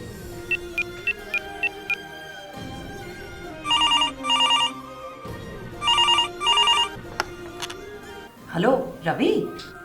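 A telephone rings in several repeated bursts, fairly loud and close, with quiet background tones between rings and a voice starting at the end.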